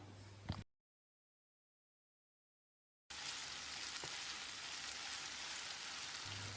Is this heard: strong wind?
no